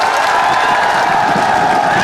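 Crowd applauding and cheering at a Congress political rally in Bandikui, Dausa constituency, addressed by Priyanka Gandhi; dense, steady clapping and crowd noise fill the whole stretch.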